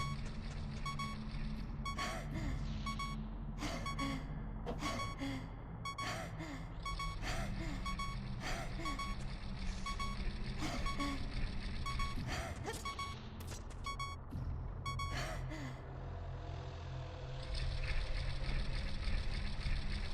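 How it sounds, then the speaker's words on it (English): Repeated low-health warning beeps from Ship of Harkinian, the Ocarina of Time PC port, sound steadily over a dense bed of game music and ambient noise, continuing through most of the stretch at a moderate level. "I had to turn on infinite health for a second so I'd make the beeping stop."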